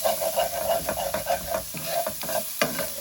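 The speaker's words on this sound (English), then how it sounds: "I'm going to saute this. Try to scrape all that stuff up from the bottom." Garlic sautéing in a pan over a low flame while a utensil scrapes the bottom: a steady close sizzle broken by quick, rhythmic scraping strokes.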